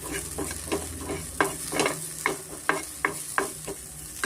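Potato is mixed with a little salt in a bowl, a series of close, regular scraping and clacking strokes about every third of a second, sharp and distinct over quiet background, with no voices.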